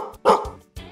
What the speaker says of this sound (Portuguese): O cachorro late